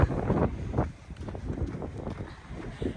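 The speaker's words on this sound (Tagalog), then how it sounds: "Lakas talaga ng hangin." Strong wind gusts roar during a snowfall in Edmonton, a continuous loud buffeting rush with swelling bursts, close on the microphone.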